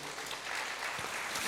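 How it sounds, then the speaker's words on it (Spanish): Congregation in a church service clapping for God, a dense steady wash of applause filling the short moment with no voices over it. "Dale un fuerte aplauso a nuestro Dios."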